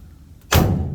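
The door of a 1969 COE custom truck shuts with a single heavy, close thud that lingers briefly in a dull rumble.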